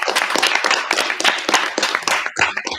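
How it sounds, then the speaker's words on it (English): Audience applause at a school geography bee, a dense burst of many hands clapping close by, continuing steadily for a few seconds before it begins to thin out. "You deserve a round of applause as well."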